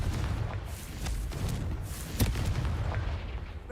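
A Confringo blasting spell detonates a vase in Hogwarts Legacy, a dense rumbling boom with a sharp crack near the middle, loud and close with no talk over it.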